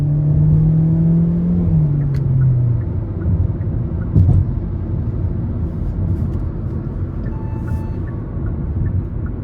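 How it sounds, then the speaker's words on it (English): A 2024 Hyundai Elantra SEL with a 2.0-liter naturally aspirated four-cylinder engine accelerates, its hum rising in pitch at first and then settling into a steady road rumble, heard from inside the cabin. "the higher you get in the RPMs, this does tend to start pulling pretty well"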